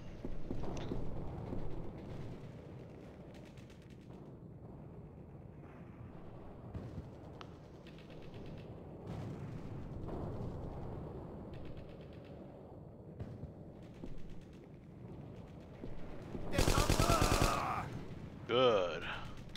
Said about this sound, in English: At least the MP40 sound effect is still the original.